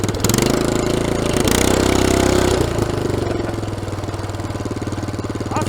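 A 65-year-old small tractor engine fitted with a tall exhaust stack runs loud and close, a rough, steady pulsing drone with a slight shift in pitch partway through.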